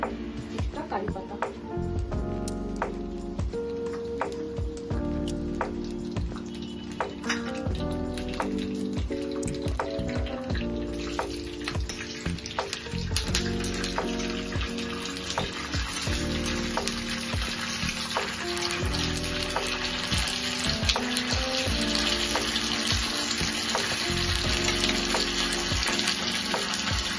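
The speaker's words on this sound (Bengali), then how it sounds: "ঘি আমার গরম হয়ে গিয়েছে, আমি সর্ষে দিয়ে দিলাম আর দেব কিছুটা কারি পাতা।" Mustard seeds and curry leaves sizzle and crackle steadily in hot ghee, a continuous close frying hiss with scattered pops, while someone talks over it throughout.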